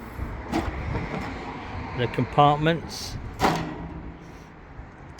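A few short sliding scrapes and knocks of metal tool trolley drawers being pushed shut, close by, with brief talk in between.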